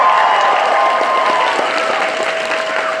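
A live audience at a Jacksepticeye tour show in Austin, Texas, breaks into steady, dense clapping that fills a large hall, loud and continuous throughout, with faint crowd murmur beneath.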